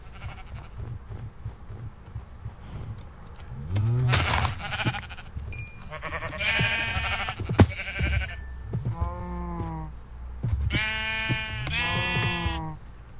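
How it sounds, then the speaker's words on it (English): Sheep bleating in the Minecraft video game, several wavering calls overlapping and repeating over a steady low background hum, loud and close, with no talking. "That's insurance sheep."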